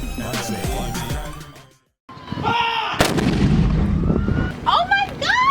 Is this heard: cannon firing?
yes